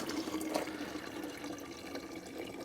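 Water trickles from the opened valve of a portable water filter, a faint, quiet, steady gurgling flow heard close up.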